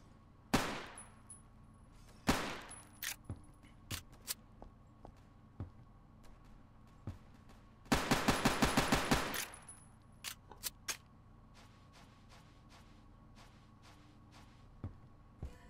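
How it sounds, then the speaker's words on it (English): Single pistol shots and a rapid string of fire from an M1911 in the video game Phantom Forces, with sharp isolated cracks, a dense burst in the middle, and lighter taps in between, loud and close. "I'm also going to let you guys listen to the weapon so you guys can hear the sound of it"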